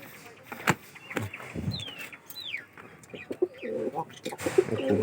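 Lakka fantail pigeons kept in a loft coo softly in low, rounded phrases, joined by several short sharp clicks, thin rising chirps and faint background bustle, with low voices murmuring nearby.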